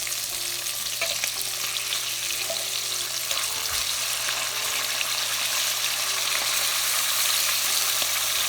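Pork ribs frying in a pan, a steady loud hiss of sizzling oil with occasional crackles and pops running throughout without pause.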